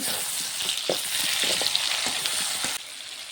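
Potato and onion frying in a pan as a ginger, garlic and dried chili paste goes in, a steady close sizzle with a few stirring knocks.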